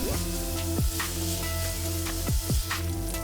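Sun-dried tomatoes and chopped red onions sautéing in a pan over medium heat: a steady, close sizzle with a few scraping strokes of a spatula, and no voices.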